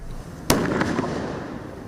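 Fireworks go off in a live safety demonstration: one sharp, loud bang followed by a few quicker crackling pops and a fading rumble, heard from a short distance with no speech.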